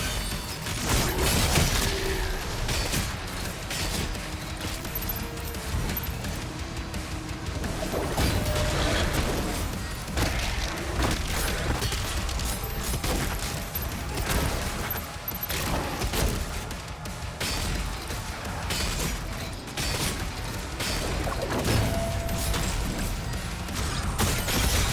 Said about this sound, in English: Now we can just start pumping this guy with bolts.